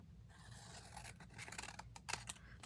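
Scissors trim the top off a large craft paper page that has a small pocket. The snips and rasps are soft and close, in short uneven bursts, with no talk.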